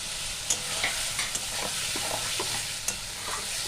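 Fried pointed gourd goes into sizzling masala for a prawn and gourd kosha and gets stirred, giving a continuous loud sizzle broken by a few spatula clicks and scrapes, close up, with no voices.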